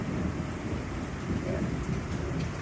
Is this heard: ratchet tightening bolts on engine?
no